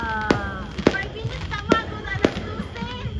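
Sharp New Year's Eve fireworks crack and pop at irregular intervals, roughly five loud bursts with fainter crackles between, while people chatter and call out greetings over them.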